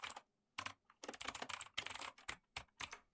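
Rapid bursts of computer keyboard typing while entering code, close and clear, in uneven clusters of keystrokes separated by short pauses, with no voices.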